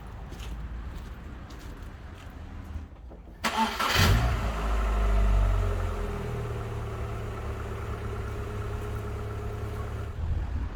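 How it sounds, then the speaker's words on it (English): A Rover 45 engine cranks and fires after a quiet start, then settles into an uneven, rough idle on three cylinders, a steady low rumble close by with no talk. "On occasion, this car likes to run on 3 cylinders"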